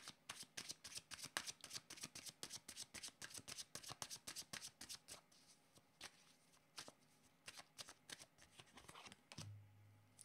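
Tarot cards shuffled by hand in quick repeated riffling bursts, close and crisp, with a steady rhythm that slows and gives way to a short low hum near the end.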